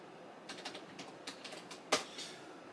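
Computer keyboard keys tapped for a password during a TrueNAS setup, a quiet, close sequence of about a dozen light clicks with one sharper keystroke near the end.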